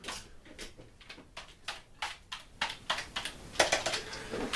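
Clicky keystrokes on a computer keyboard, irregular bursts of taps that grow busier toward the end, close by with a quiet room behind.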